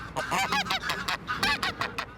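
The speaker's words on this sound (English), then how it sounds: "The geese adapted very fast." Geese honk close by in a city in Hamburg, Germany, in a rapid, overlapping series of nasal calls, several birds chattering together without pause.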